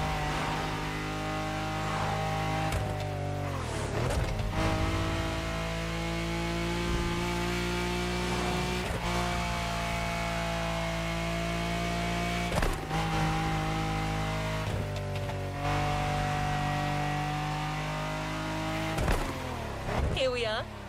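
Lamborghini race car in The Crew Motorfest racing game, its engine droning steadily at high revs with sharp downshifts and brief re-acceleration bursts every few seconds, loud and close throughout.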